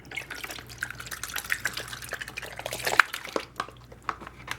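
Water sloshes and drips as a gold panning pan is washed out, with light splashes and trickles spread through the clip and one sharper splash near the middle, close and fairly quiet.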